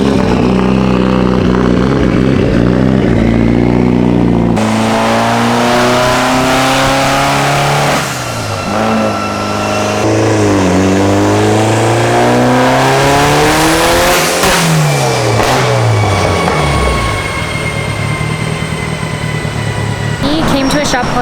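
A Mitsubishi Evo 8 with a built turbo setup revs hard on a dyno in a tuning shop, repeated rising and falling engine sweeps loud and close, with voices briefly audible between pulls.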